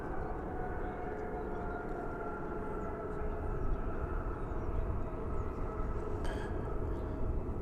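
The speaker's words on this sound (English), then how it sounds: "A321. It is of the American Airlines brand, flight 2997." A distant American Airlines Airbus A321 airliner, flight 2997, at DFW Airport produces a faint, steady jet engine drone with low rumble and faint whining tones, swelling slightly midway with a brief sharp chirp near the end.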